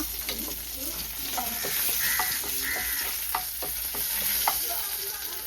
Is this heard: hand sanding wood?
no